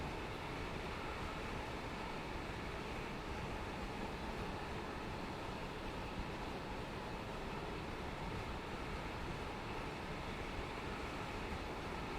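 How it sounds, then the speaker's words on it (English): A train running in the video game Train Sim World 4 on the Edinburgh to Glasgow line, a steady, even rumble of wheels and engine that continues without change throughout, faint and unbroken, with no talking. "There's definitely a train."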